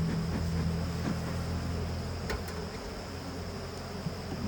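Honeybees buzzing in a hive colony that is sparsely populated and somewhat agitated, a continuous low droning hum with a steady background hiss, close and even, with no one speaking.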